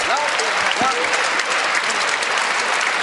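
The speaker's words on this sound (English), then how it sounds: "Hyuk gets a big cheer" Table tennis crowd at a world championship match bursting into loud, sustained applause and cheering, a dense wash of clapping from a large arena audience that holds steady throughout.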